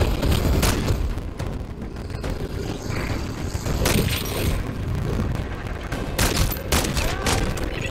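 Rapid bursts of gunfire fill the scene in Modern Warfare 3 Zombies, a sniper-style Longbow rifle and other weapons firing amid explosive booms, loud and continuous throughout with dense overlapping shots.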